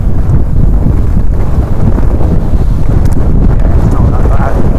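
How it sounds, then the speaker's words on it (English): Steady, loud wind buffets the microphone outdoors at Glentress, a constant low roar without gusts filling the whole stretch. "It's constantly windy."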